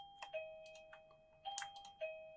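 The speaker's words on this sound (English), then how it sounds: "doorbell went there." A doorbell rings in a room, its clear tones sounding a few times over about two seconds, fairly soft against a quiet background with no talking.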